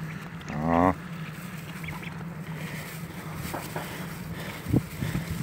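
A duck quacks in a supermarket parking lot, a short run of loud nasal calls near the start, then another brief call later over steady outdoor background hum.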